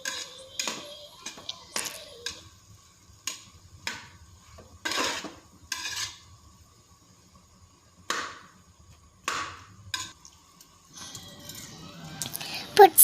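Metal spoon scraping and clinking against a pot while spices are stirred into veg biryani, a series of short, irregular taps and scrapes spaced across a quiet kitchen, fairly close and moderately soft.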